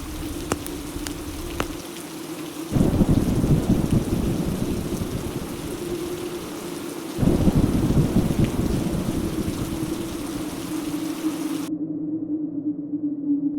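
Heavy rain pours down steadily over a village hut with thunder rumbling, the downpour surging loudly twice before easing and cutting off.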